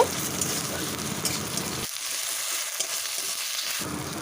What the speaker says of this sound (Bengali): পেঁয়াজটা হালকা বাদামি কালার হয়ে এলে ওর মধ্যেই দিয়ে দেব রসুন বাটা রসুন বাটাটা দিয়ে আরও মিনিট দুয়ে কষিয়ে নেব